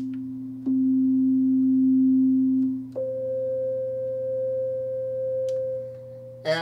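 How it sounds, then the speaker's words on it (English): A Sequential Circuits Prophet 12 synthesizer plays sine waves: pure, smooth held tones that step between a few pitches in a slow sequence, clean and close, with nothing else in the mix. "That's a sine wave."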